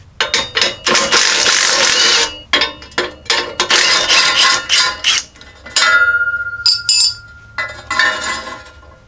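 Metal tools working on the exhaust clamp of an 84-01 Jeep Cherokee XJ during a trailer hitch installation, repeated ratcheting clicks and clinks in irregular bursts, close and loud, with a few ringing metallic taps.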